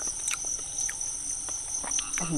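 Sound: many insects buzzing outdoors on a mountain

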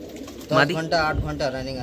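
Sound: pigeons cooing

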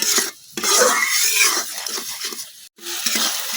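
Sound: spice paste being stirred and fried in a pan

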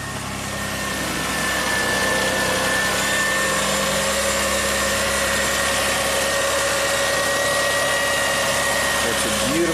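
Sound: Lexus V6 engine idling

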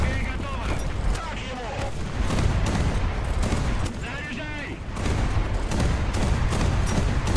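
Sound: gunfire in video game War Thunder

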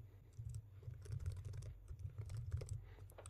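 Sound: typing an email address on a computer keyboard

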